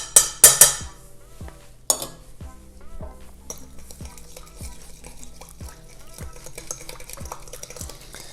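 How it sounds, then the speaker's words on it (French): Stirring a sweet potato burger mixture in a bowl starts with a few sharp clatters, then settles into a steady rhythm of soft clinks of a utensil against the bowl, roughly twice per second. "on va venir mélanger tout ça"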